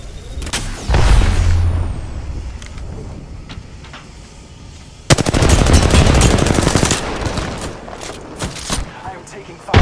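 Bursts of automatic gunfire with explosions in a sci-fi shooter video game battle, loud and dense, with a pause between two heavy volleys and talk over the action.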